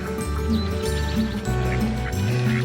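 Ducks quacking at close range around a backyard coop while duck eggs are gathered, with continuous overlapping calls and squawks filling the whole stretch alongside some rustling.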